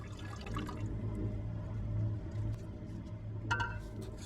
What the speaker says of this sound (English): Small rinses with distilled water will get most of the nitric out of here.